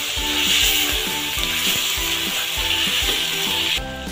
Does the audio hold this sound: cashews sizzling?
yes